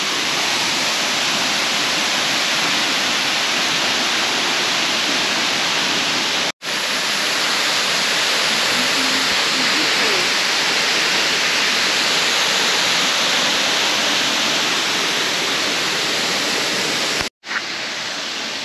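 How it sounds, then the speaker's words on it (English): St. Nicholas Waterfall in Sao Tome pours in a loud, unbroken broadband rush close by, steady for the whole stretch apart from two brief cuts to near silence. "St. Nicholas Waterfall right here in Sao Tome."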